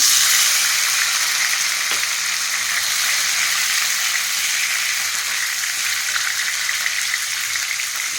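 Chopped ginger and tomato frying in hot oil in a pan, giving a loud, dense, continuous sizzle with a faint knock near the start and no voices.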